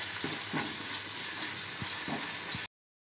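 Onions and green chillies frying in oil with whole garam masala for biryani, a steady broadband hiss of sizzling with a few soft stirring clunks, close and continuous, then it cuts off abruptly.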